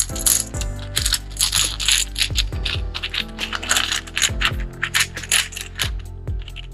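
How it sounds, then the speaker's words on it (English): Plastic tokens from the Splendor Duel board game clack and clatter together as the board is refilled, a busy run of close, bright clicks and rattles throughout. "I know you like making the clacking noise"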